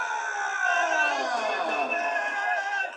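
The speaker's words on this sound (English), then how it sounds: "Got to hear the pump from this crowd." Arena crowd roaring continuously for fighter Tom Nolan as he is introduced at a UFC event in Perth, a dense sustained wash of cheering and babble that stays loud throughout before dipping slightly at the end.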